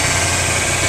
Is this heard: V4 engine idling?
yes